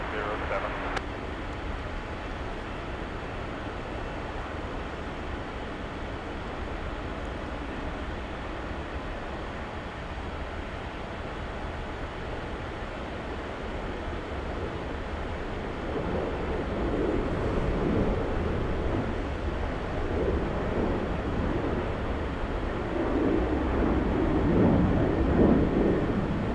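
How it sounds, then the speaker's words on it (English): A Boeing 787 airliner from Osaka, Japan rumbles steadily at Los Angeles International Airport, a broad distant roar that swells slightly toward the end amid outdoor wind noise. "That is the 787 from Osaka, Japan."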